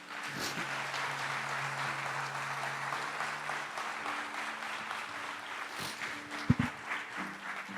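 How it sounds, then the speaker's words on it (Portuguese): A church congregation claps in a steady, even wash during a worship service, moderately distant and continuous with a low instrumental hum beneath, ending in a couple of sharper knocks. "Aplauda Ele em nome de Jesus."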